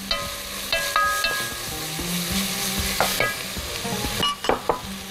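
Onion and garlic sautéing in a pan, loud close sizzling with repeated scraping and clinking of a utensil stirring, sharp bursts toward the end, and no talking.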